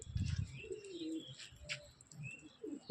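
Pigeons coo softly in low, rolling calls among faint chirps, with a brief flutter of wings, heard from close by in a quiet setting.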